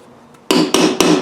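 A hammer taps a galvanised pipe fitting into a Salisbury rear axle casing at the filler plug thread: three sharp, close metallic strikes about a quarter second apart, ringing briefly after a quiet lead-in, with no talking.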